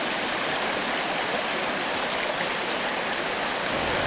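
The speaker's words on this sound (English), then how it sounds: "We have gone down the trail a couple tenths of a mile and seem to be at what sounds like some rapids." River rapids along a trail near Lake Superior: a steady, dense rush of churning water, loud and close, with no breaks throughout.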